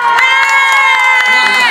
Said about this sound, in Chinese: 感谢大家掌声。